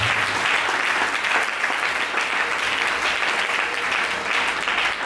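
A church congregation in Haiti breaks into sustained applause, dense and even clapping from a large crowd that continues for several seconds.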